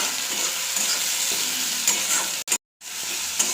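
Chopped tomatoes and salt sizzle steadily in a hot pan for a Bengali mustard fish curry, with scraping stirs throughout and a brief silent break near the end before the frying resumes.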